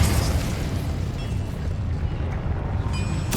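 The Incendio fire spell in Hogwarts Legacy is cast as a loud, roaring burst of flame, a dense rumbling whoosh that holds for several seconds before a bright, ringing tail at the end.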